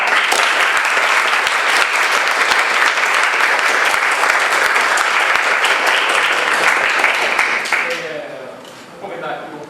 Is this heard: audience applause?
yes